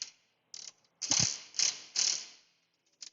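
A socket ratchet tightens bolts that are being torqued to 80, giving short bursts of quick metallic clicking. There are about six separate strokes, with a few brief pauses between them, heard up close in a quiet space.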